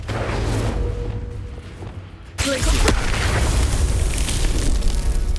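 Explosive Bombarda spell blast in Hogwarts Legacy, a sudden loud boom bursting in after a quieter stretch of combat noise, then lingering rumbling debris and crackle.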